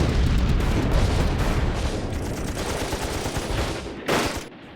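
A battle sound effect of sustained machine gun fire, with dense rapid bursts rattling loud and continuous, then thinning out before one last sharp blast near the end.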